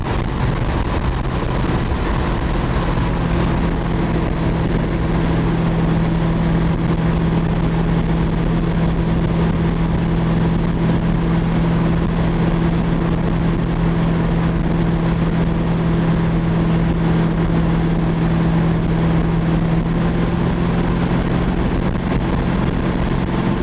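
A 1954 Chevy 3100 pickup with a Chevy 350 four-barrel V8 and 700R4 automatic runs steadily, a continuous low engine rumble with a constant hum, close and loud throughout without a break.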